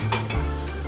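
Seasoned oil with salt and cracked pepper stirred in a metal pan while making pizza, a short scrape of utensil against pan over a low steady hum, with no talking.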